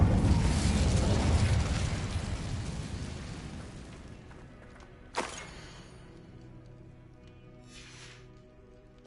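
A fire spell cast in the video game Hogwarts Legacy: a loud whooshing, rumbling burst of flame that fades over a few seconds, followed by a single sharp crackle and a faint later flare.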